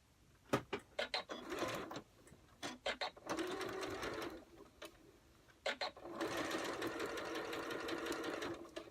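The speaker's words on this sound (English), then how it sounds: "Okay, now I'm at the machine. I'm getting ready to sew the continuous lap" A sewing machine sews a continuous lap in red thread on a shirt dress. Short stop-start bursts of stitching give way to a longer steady run near the end, close and fairly quiet.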